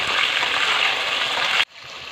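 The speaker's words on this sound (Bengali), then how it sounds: "এবার একসঙ্গে সবকটা ভালো করে ভাজবো।" Potatoes with ginger and tomato frying in a pan, giving a loud, dense close sizzle that drops off sharply near the end to a softer hiss, with no talk.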